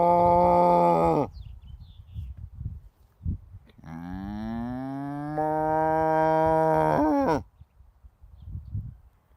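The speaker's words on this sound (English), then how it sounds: "It's a moo goat." A goat behind a field fence gives long, loud, moo-like bellowing calls, one short and one drawn out, with quieter rustling between them.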